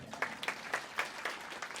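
An audience at an Ambedkar Jayanti lecture claps in a steady rhythmic beat, the evenly spaced claps sounding fairly soft and somewhat distant through the short stretch.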